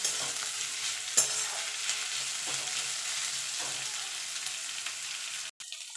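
Chopped onion fries in a hot pan. A steady soft sizzle runs throughout, with a few sharp scrape-and-stir clatters of a spoon and a brief clunk near the end.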